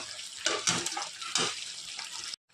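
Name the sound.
water poured into brinjal and dried fish curry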